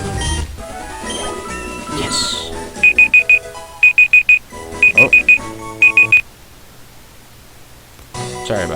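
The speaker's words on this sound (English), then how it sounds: "That was a timer telling me that my episode should be over" A timer alarm beeps in four rapid bursts of four, repeating about once a second over game music and other sounds, then stops.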